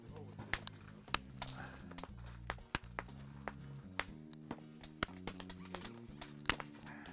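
Sharp glassy clicks and ticks as a copper rod presses flakes off the edge of a glass spearhead, with an antler piece also used, scattered irregular taps close by, a few louder snaps among them.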